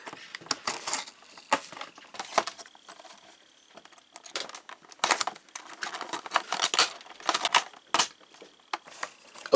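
G.I. Joe Classified Retro Sgt. Stalker toy packaging being opened: bursts of crinkling, tearing and tapping plastic and cardboard, irregular and close, with quiet gaps between.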